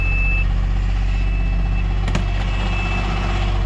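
A truck idles with a steady low engine rumble, and its reversing beeper repeats as a high, thin intermittent tone; the scene is roadside freeway work during an auction towing job.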